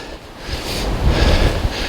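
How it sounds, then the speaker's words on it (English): Strong gusting wind buffets an exposed hilltop at Ros Castle in Northumbria, a loud roaring rush that swells and surges without pause, with no voices. "up to 57-mile-an-hour gusts, which, yeah, we've got that"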